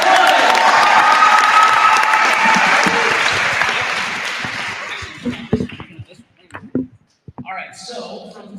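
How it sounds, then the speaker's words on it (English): A crowd at a school event applauds the 7th grade with loud, sustained clapping that fades after several seconds into scattered claps and voices. "Round of applause on the 7th grade."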